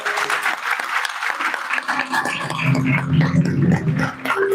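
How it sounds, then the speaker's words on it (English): An audience at an alumni meet in Mumbai breaks into a big round of applause, dense clapping that holds steady and swells slightly toward the end, with a few tonal sounds and murmurs mixed in. "Huge round of applause, please."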